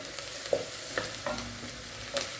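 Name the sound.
onions frying and softening in a pan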